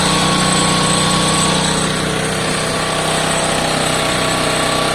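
A Piaggio Fly scooter engine idles slightly high, a steady, close buzzing drone with an even mechanical whirr that holds unbroken throughout.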